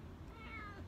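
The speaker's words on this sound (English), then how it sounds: "there's this cat that's in my Airbnb that's trying to touch me." A cat in a rented apartment gives one quiet, brief meow, faint against low background noise, with no talking.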